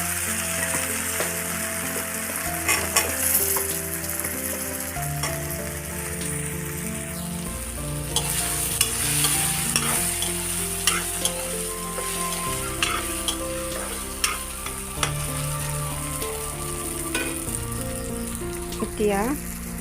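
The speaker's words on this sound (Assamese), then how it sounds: "ইয়াতে দিম মই কাটি থোৱা আলুখিনি।" Chopped potatoes sizzle and fry steadily in a hot pan for Assamese chengmora, with intermittent stirring scrapes and clatters over the continuous crackle, while steady music plays underneath.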